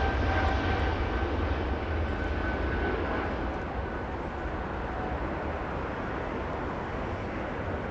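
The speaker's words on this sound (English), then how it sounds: "Let's go to the Air France 777 lining up." Air France Boeing 777 airliner idling on a runway at LAX, a steady distant engine rumble and broadband roar holding level throughout, with no voices.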